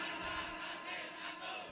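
Many people at a village community event shout a group chant together in response, a continuous massed vocal roar lasting under two seconds, steady and fairly loud.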